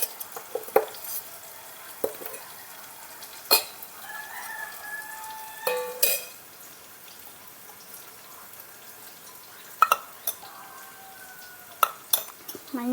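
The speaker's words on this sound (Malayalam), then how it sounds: "ഇതിങ്ങനെ വഴറ്റി കൊടുക്കാം." A spoon clinks and scrapes against a pan while tomatoes and onions are sautéed with salt, chili powder and turmeric. The sharp, sporadic taps come close and are spaced out, and a rooster crows faintly in the background.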